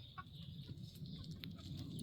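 Chickens foraging for slugs and pests in a London self-sufficiency garden, giving soft, scattered clucks close by over a steady low outdoor background.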